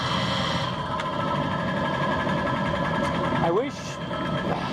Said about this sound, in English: I might be overloading the motor.